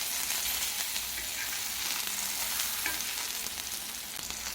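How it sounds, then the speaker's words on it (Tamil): Kizhangan fish coated in masala sizzles steadily in a pan over medium heat, a close, continuous crackling fry with faint stirring, no voices. "கிழங்கா மீன் சேர்த்துட்டு அடுப்பை மிதமான தணலில் வச்சு நம்ம பொரிச்சு எடுத்துக்கலாம்."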